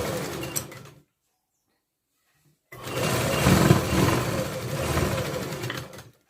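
A sewing machine stitches folded blouse fabric, running in a short burst, then stopping for a silent gap before a longer, steady whirring run with a rapid mechanical needle rhythm.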